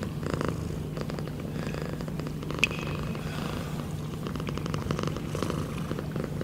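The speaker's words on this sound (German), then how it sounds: "but listen to her purring." A pet cat purring close up, a low steady rumbling purr running throughout at moderate volume, with a single brief click partway through.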